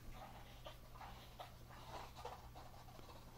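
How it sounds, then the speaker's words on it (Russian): A dog gnaws at a squeaky rubber toy nearby, producing repeated faint squeaks and chewing sounds over a low steady hum, heard through a Motorola C115 phone. "Это моя собака грызет резиновую игрушку."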